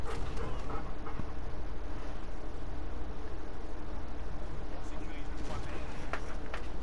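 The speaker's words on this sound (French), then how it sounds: "Salut bébé chien." A dog in the Call of Duty Modern Warfare video game barks and whimpers over a constant hiss of game noise, while people talk.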